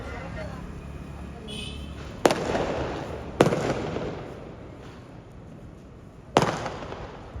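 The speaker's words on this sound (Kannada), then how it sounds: "ಫುಲ್ ಎಲ್ಲ ಸೈಡ್ ಪಟಾಕಿ ಜೋರು, ಫುಲ್ ಧೂಮ್ಧಾಮ್ ಮಾಡ್ತಿದ್ದಾರೆ ಕ್ರಿಸ್ಮಸ್ನ" Firecrackers burst during Christmas celebrations on a street, three sharp loud bangs spaced a second or more apart, each trailing off in a crackling decay over a low background murmur.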